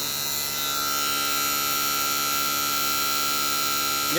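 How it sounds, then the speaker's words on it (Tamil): The outdoor fan motor of an air conditioner runs at steady speed, giving a loud continuous electric hum and buzz with a fixed whine and no pauses, with nobody talking. "அவுடோர் ஃபேன் மோட்டர் ஓடிட்டுருக்கு."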